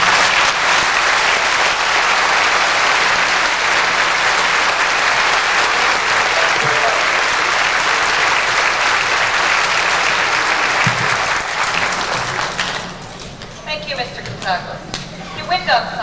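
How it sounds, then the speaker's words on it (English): A large audience at a 1993 high school graduation ceremony bursts into loud, sustained applause that fills the hall for about twelve seconds before thinning into scattered claps. "I would like to ask everybody to give them a warm round of applause because they really deserve it."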